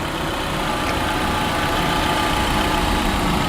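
The turbocharged engine of a Chrysler PT Cruiser Turbo Convertible Touring with 89K miles idles close by, a loud, even rumble that holds steady and unbroken with no voices over it.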